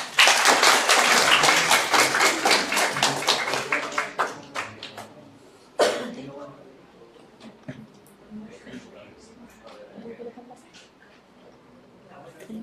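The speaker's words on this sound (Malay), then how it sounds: "Saya jemput isteri saya bagi tepukan kepada Puan Najla." Audience clapping at a Malaysian financial seminar evening event, a loud burst of dense applause that thins into scattered claps, dies away, then briefly swells again before fading to sparse taps.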